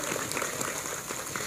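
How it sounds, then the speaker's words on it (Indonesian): Soft, distant applause from a women's muslimat religious gathering for a santri performer who sings Quran memorisation pieces with a single organ, a faint, even patter of many hands resembling light rain, with no voices. "Tepuk tangan dulu dong buat santri dong."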